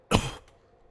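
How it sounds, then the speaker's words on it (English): One sharp, close cough from a person at a computer, followed by quiet. "Why am I coughing?"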